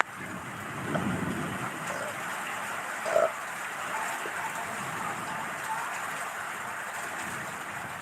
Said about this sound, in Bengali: একটু ঝড় হাওয়া মানে হাওয়া উঠেছে আর একটু বৃষ্টি হচ্ছে